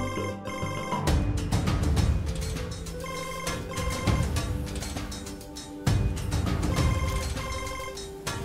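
A telephone rings steadily in a domestic drama scene, its repeating electronic ring tone loud and continuous over a background music bed, with no one speaking.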